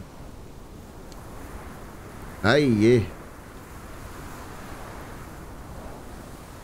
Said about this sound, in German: Heftiger Wind hier, heftiger Wind.